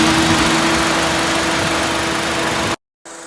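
A steady, smooth idle from a 2013 Honda Accord 2.0 EL car engine hums without stutter or surging, then cuts out abruptly for a moment before resuming.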